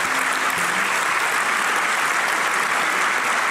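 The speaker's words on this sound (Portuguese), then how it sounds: "Uma grande salva de palmas para eles." Dense, continuous clapping from a crowd at a Chega party political rally in Loures, Portugal, a steady wash of applause with no pauses.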